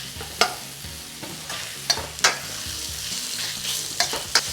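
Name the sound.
pork mince frying with ginger and garlic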